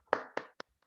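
A few scattered hand claps in an online webinar applauding a participant, three or four separate sharp claps spaced unevenly, close and fairly quiet, then silence.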